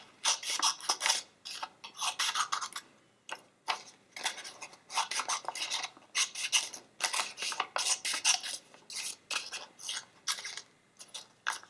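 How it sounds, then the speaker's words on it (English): Small scissors snipping out paper illustrations for a fall craft tile, a close series of quick crisp cuts in irregular bursts with brief pauses between them. "I'm using a really small scissor"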